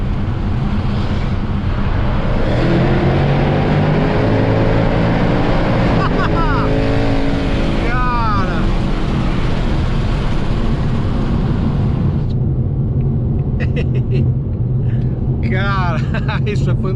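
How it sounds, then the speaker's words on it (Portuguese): A Ford Mustang engine revs loudly over a steady deep rumble, throttle blips rising and falling in sharp sweeps midway before it settles into a rough idle. "Vou encerrar a matéria com essa acelerada"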